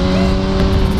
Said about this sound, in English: what was that car?